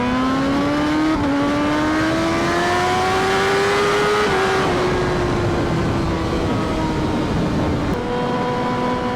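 A BMW HP4 Race motorcycle engine climbs steadily in pitch while riding, loud and close, stepping down briefly at each gear change.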